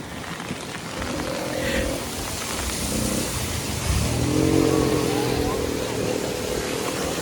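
A motorbike engine hums steadily under rushing wind and road noise while riding through heavy monsoon rain and a waterlogged road in Virar, swelling into a louder rev partway through.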